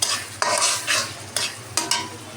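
Dried fish (shutki) sizzles as it fries in a pan, with five or six scraping stirs of a spoon rising over the steady hiss, close and fairly loud.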